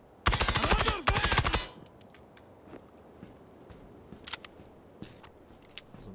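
Rapid bursts of rifle fire in the tactical shooter Ground Branch, two loud close volleys in quick succession followed by a few scattered fainter shots over quiet background ambience.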